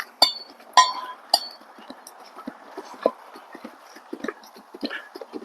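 Quarter horse, a stout 14.2-hand gelding, loping with a few sharp clip-clop hoof strikes early on, then softer scattered footfalls under low steady background noise.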